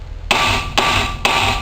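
A hammer strikes metal while loosening a wheel bearing, three loud, close, ringing blows about half a second apart, each sustaining a bright metallic tone.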